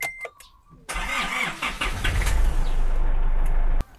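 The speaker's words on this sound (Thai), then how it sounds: "เราจะวอร์มเครื่องก่อนนะครับสัก3นาทีนะครับก่อนจะฝัดชิ่งนะครับ" An Isuzu D-Max diesel engine cranks and starts, then settles into a steady, loud idle as it warms up before an engine flush, running alone with no talk.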